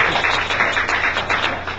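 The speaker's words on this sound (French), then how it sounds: "Je pense qu'on pourrait garder les applaudissements tout pour la fin." Applause at a regional press conference: a dense, steady patter of many hands clapping at once, loud and continuous.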